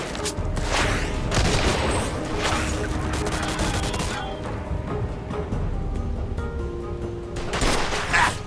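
Pistol gunfire in a Mafia 2 shootout, loud repeated shots with crashes and impacts mixed in dense combat noise, exchanges of fire trailing off then picking up again near the end.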